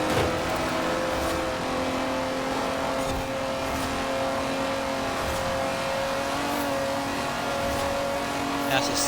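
BMW 850CSI engine in Forza Horizon 4 racing game, a sustained steady engine drone with tonal whine at constant load, fairly loud and continuous, with a few brief transient bursts.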